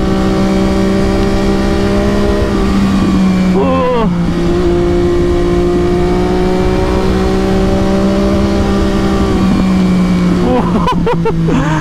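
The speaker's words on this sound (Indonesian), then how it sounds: "Asli sih ngebut banget motornya." An MV Agusta F3 800 motorcycle ridden fast gives a loud, steady engine drone that holds high revs for most of the run, with brief dips around two gear changes, close up and continuous.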